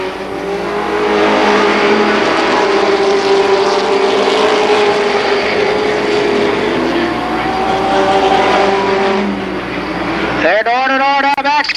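Super late model stock cars race door-to-door down the backstretch at Columbus Motor Speedway, their loud, roaring engines droning together under an excited commentator, then fading as a higher whine rises at the end.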